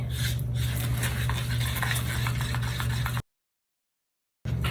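Steady close scraping and stirring of thick resin paste worked with a stick, a continuous gritty churn that cuts off abruptly into silence before resuming briefly at the end.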